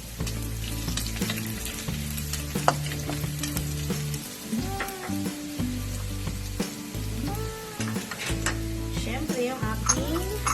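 Garlic sautés in a hot pan for squash and winged beans in coconut milk, a loud continuous sizzle with stirring scrapes and light clinks close by, a voice briefly in the background.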